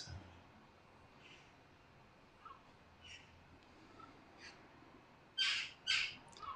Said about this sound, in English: I can hear the birds joining in the meditation here.